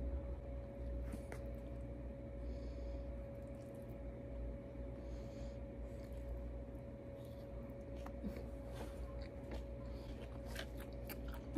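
Close, moist chewing and biting on Korean lunch box beef and mushrooms with sticky rice, soft squishy mouth sounds repeating steadily over a low constant background hum, with no talking.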